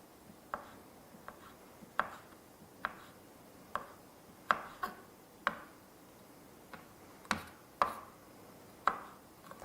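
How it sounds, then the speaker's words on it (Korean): A knife finely chopping carrots on a cutting board: about a dozen crisp, fairly quiet knocks in an uneven rhythm, each standing alone with no talking. "당근은 잘게 다져 주셔야 되는 거예요."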